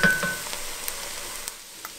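Mirepoix sizzles in about a tablespoon of oil in a pan for chicken jambalaya, giving a loud initial hiss that settles into a steady, softer fry with a few light clicks, and no voices.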